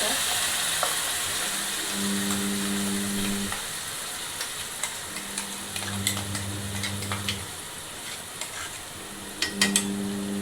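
Masala paste frying with tomatoes for a spicy chicken liver curry, giving a steady soft sizzle with occasional stirring clinks, close by, while a voice hums or speaks briefly over parts of it.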